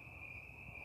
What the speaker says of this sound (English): I don't know if y'all could hear the crickets chirping or the frogs